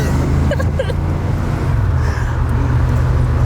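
Jeep at full throttle, a steady loud low engine roar under the whole stretch, with brief voices rising over it midway.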